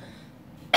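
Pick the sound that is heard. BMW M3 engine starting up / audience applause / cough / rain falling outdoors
cough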